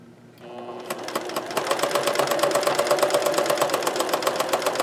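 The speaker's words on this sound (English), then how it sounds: "I'm going to zigzag all around this piece of lace I've added" A sewing machine zigzag-stitches around a lace patch on fabric during a hole repair, starting up and then running in a fast, even mechanical chatter, close and steady without pause.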